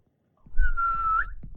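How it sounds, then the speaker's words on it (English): A game character in Unreal Engine 5 whistles a single clear, steady note that lasts under a second and rises slightly at the end, with a faint low thump beneath it. "make a whistle and come back"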